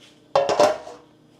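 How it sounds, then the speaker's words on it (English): Melted chocolate stirred in a cup, a brief close burst of clinking scrapes from a utensil against the cup lasting about half a second, then fading to quiet. "stir it a little bit"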